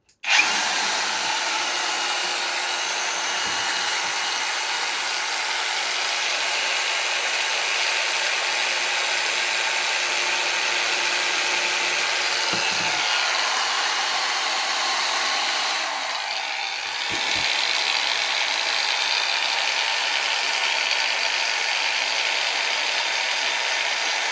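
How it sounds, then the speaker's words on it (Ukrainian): A Forte AG-21BC cordless angle grinder runs at a steady high-pitched whine for the whole stretch, with one brief dip near the end and no talking. "Ну що, включаємо і перевіряємо."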